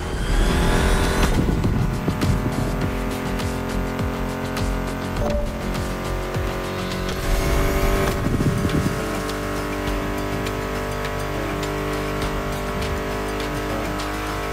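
Muscle car engines in the racing game The Crew Motorfest roar loudly and steadily, revving and shifting in several surges over a persistent music soundtrack, with a brief tire-squeal-like burst and no talk.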